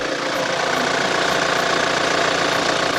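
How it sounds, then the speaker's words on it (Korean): Diesel engine of a Kia Sorento SUV idling, a steady, close and even hum with a faint rhythmic knock running through all three seconds and no voices over it. "엔진 소리가 너무 좋아요 이 디젤인데도 불구하고"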